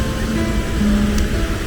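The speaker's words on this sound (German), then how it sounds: "Und gerade hier ist Rauschen, richtig Wasser im Bach." Mountain stream swollen with snowmelt, a steady loud broadband rush of water, near and continuous throughout with no voices.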